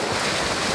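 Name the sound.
trainees splashing in the water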